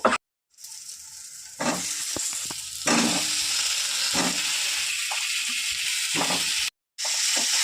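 New potatoes tossed into a hot pan with spices sizzle loudly and steadily, with a short hiss at the start and a brief gap near the end before the frying resumes.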